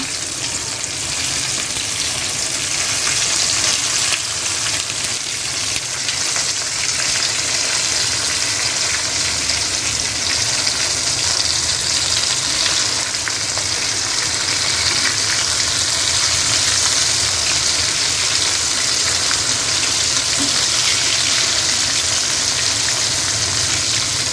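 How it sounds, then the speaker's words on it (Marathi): Karli fish sizzles and crackles steadily in hot oil in a pan, a loud continuous frying hiss with no speech. "आता एका साईडून आपली कर्ली मच्छी फ्राय करून झाली आहे, आता आपण दुसऱ्या साईडला पलटी करून घेऊया।"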